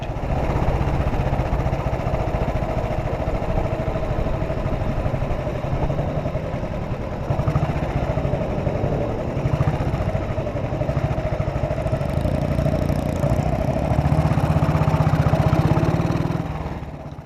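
A 70-year-old Panther Model 100 motorcycle thumps along a country road at a steady pace, its single-cylinder engine a continuous low rumble that swells briefly near the end, close and unbroken throughout.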